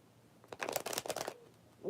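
Deck of playing cards being shuffled close up, one quick riffle of about a second with a dense crackling burst, quiet before and after.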